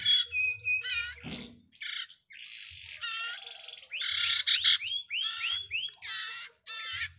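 Close, loud chirps and tweets from a loloan sirtu songbird in quick varied phrases, bursts separated by brief pauses, with a faint low rumble underneath.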